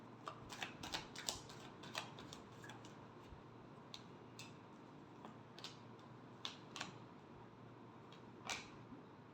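Tarot cards being shuffled, a quiet run of light papery flicks and taps in small clusters, close and soft over a low background hush.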